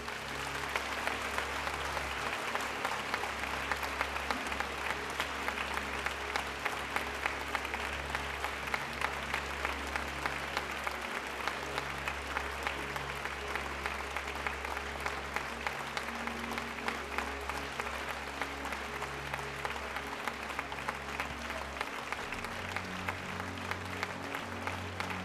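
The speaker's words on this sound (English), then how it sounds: "Et je crois qu'on peut les applaudir encore une fois." Audience applause at the L'Oréal-UNESCO Awards for Women in Science ceremony, a steady, dense wash of many hands clapping throughout the hall, sustained for the whole stretch with no talk over it.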